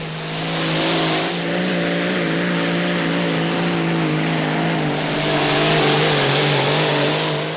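A hot rod semi truck engine roaring at high revs as it drags a heavy sled at a truck pull, a loud, sustained droning tone that shifts slightly in pitch, with crowd and track noise around it.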